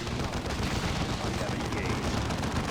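Tarantula turrets in Dawn of War II firing as a dense, continuous clatter of rapid shots under loud battle noise, steady throughout with no pauses.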